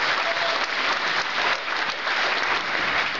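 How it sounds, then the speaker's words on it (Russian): An audience at a business seminar in Donetsk breaks into stormy applause, a dense, steady clapping from a large crowd that fills the whole stretch with no speech over it. "Бурные аплодисменты."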